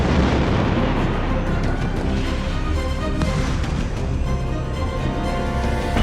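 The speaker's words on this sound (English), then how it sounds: "A bomb explodes at Las Palmas Airport." A reconstructed bomb explosion at Las Palmas Airport gives a loud, sustained roaring rumble with dense crackling debris that stays heavy from start to finish.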